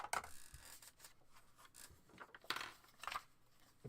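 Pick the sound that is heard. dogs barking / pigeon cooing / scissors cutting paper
scissors cutting paper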